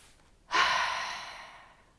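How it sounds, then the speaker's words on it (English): A single long, deep exhale breathed out close to the microphone, rising suddenly and fading slowly over a quiet background. "take a deep breath with me, like a really deep breath"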